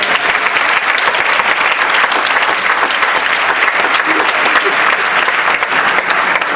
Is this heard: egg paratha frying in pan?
no